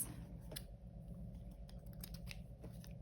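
Scissors cut through t-shirt yarn during a crochet project, with a few quiet, close snips spaced across a soft, low background.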